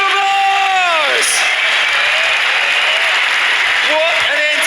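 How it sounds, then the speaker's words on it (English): Large arena crowd at the BLAST Pro Series Copenhagen esports grand final applauds and cheers, a loud, dense roar that fills the whole clip, with whoops and a brief announcer voice at the start and the end. "Give them a huge round of applause!"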